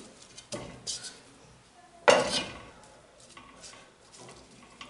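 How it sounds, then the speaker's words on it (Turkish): Fried potatoes placed into the bottom of a pot, several light clinks and scrapes of utensil on cookware, one sharper louder clatter in the middle, fairly close and otherwise quiet. "Şimdi tabanına kızarmış patateslerden bir miktar ekliyorum."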